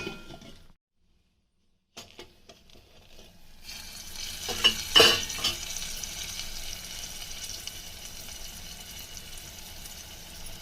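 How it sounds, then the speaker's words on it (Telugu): Garelu curry, a Telugu dish, cooking in a pan with a steady sizzle and occasional stirring scrapes. A brief silent gap comes early, and a louder stir follows midway. "ఒక 5 నిమిషాలు ఉడికించుకుందామండి."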